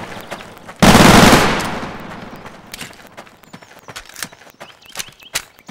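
Gunfire in a Garry's Mod battle royale game: a loud burst of rapid shots at the start that fades out, followed by scattered sharp clicks and taps.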